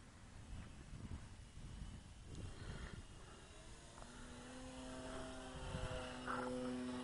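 A Dynam Tiger Moth RC model biplane on a 4S battery flies overhead, its electric motor and propeller buzzing faintly at a distance, then rising to a steadier drone as it approaches, with light wind noise.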